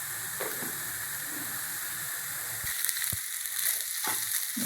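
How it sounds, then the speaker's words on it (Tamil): Mango chammanthi powder roasts in a pan with a soft, steady sizzle, and a few short scraping knocks of the stirring spoon land near the end, close and fairly quiet with no talking. "இன்னும் நம்ம அந்த பவுட்ரு மாதிரி வர வரைக்கும் நம்ம கிளறணுங்க."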